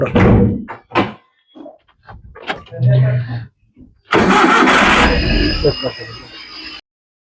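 After some brief talk and a few thumps, a car engine cranks and roars to life, running loudly for a couple of seconds before cutting off.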